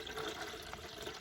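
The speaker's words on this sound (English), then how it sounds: "pour some water into it" Water poured into an aquarium filter to prime it, a brief, close, steady rushing splash with no talking.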